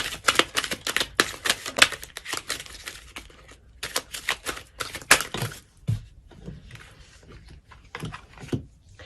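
Rapid crisp riffling and flicking of cards, several quick bursts in a row with brief pauses, close by and fairly loud.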